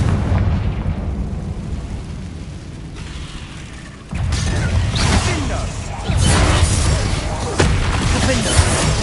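A Confringo blasting spell in Hogwarts Legacy bursts out as a loud, sustained explosive roar with crackling debris, swelling in a few surges over a constant rumbling bed of game sound.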